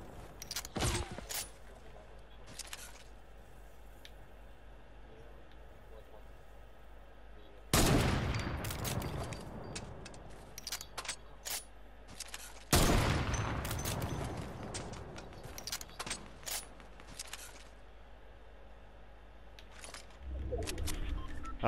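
Gunfire in the video game Fortnite comes as two dense bursts of rapid shots, each lasting a few seconds, over a quiet game background with scattered faint clicks.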